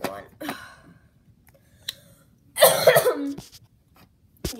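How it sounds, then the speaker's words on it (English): A huge, harsh cough erupts loudly in the middle, surrounded by brief voices and breathy sounds before it and a short sharp sound at the end. "That was like a huge cough."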